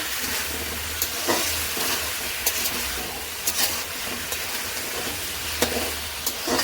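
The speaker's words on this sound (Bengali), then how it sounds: "এখন নাড়াচুড়ি হচ্ছে, তারপর মশলা দেওয়া হবে।" Pomfret fish curry with eggplant and onions frying and being stirred in a pan, a steady close sizzle broken by sharp scrapes and knocks of the spatula, with a low hum underneath and no talking.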